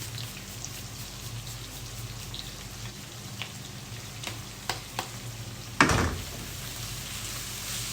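Two grated garlic cloves frying in a pan for a chicken sausage curry give a steady, soft sizzle, broken by a few light clicks and one louder clatter near the end.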